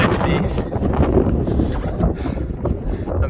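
Steady, loud wind buffeting the microphone on Max Patch, an open mountain summit on the Appalachian Trail, a continuous rough roar with no voices.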